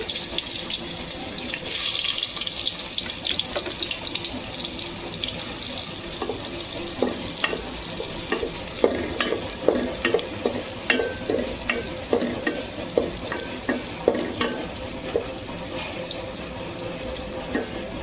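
Garlic browning in hot oil as vegetables go into the pan, with a soft sizzle and then a run of rhythmic spatula scrapes and taps from close stirring.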